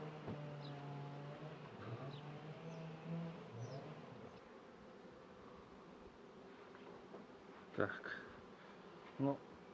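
Honeybees buzz around an open beehive during an inspection, a faint, continuous hum with a few soft knocks and bumps of frames near the end.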